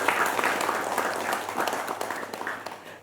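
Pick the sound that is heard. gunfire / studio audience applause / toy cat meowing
studio audience applause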